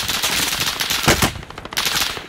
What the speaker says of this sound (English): Are they firing at you? Yeah, they're firing.